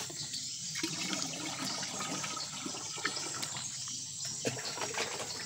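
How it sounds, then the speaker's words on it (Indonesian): Water pours steadily from a 10-litre watering can onto oil palm seedlings, a continuous close splashing and trickling wash that runs unbroken for several seconds with no talk. "Jadi wadah gembor ini atau 10 liter ini untuk menyiram 200 bibit."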